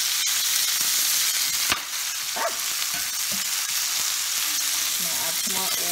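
Kale, mushrooms and tomatoes sizzle and fry in an oiled pan, a steady close crackle throughout with a few sharp utensil clicks and stirring scrapes.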